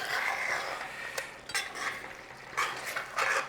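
Chicken is stirred through ghee in a pan, giving a soft scraping and clinking of a utensil against metal in a few short bursts, with a faint sizzle underneath and no talking.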